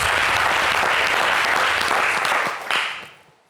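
Studio audience on a French TV show applauding a guest, loud dense clapping sustained for several seconds before tapering off and fading out.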